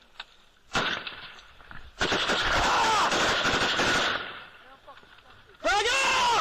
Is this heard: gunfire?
yes